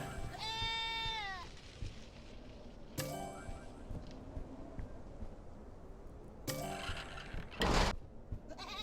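A goat in the video game Airport Renovator lets out a clear, wavering bleat near the start, followed by scattered game clicks and whooshes with no one speaking.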